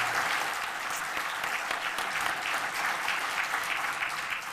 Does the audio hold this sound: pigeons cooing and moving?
no